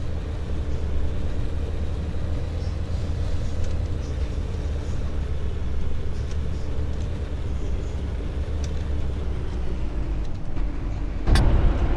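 A Sprocket tank drives uphill, its engine a steady, loud, continuous rumble with heavy low-end drone throughout, ending in a sharp louder burst near the close.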